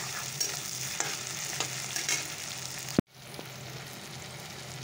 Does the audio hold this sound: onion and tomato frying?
yes